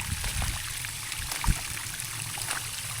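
Water sprays steadily from a shower-style hose onto plants outdoors, a constant hissing patter with a few soft thumps and splashes in the background.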